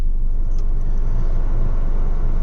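A car engine idles steadily as it warms up on a winter day, a constant low rumble filling the whole stretch with no voices over it.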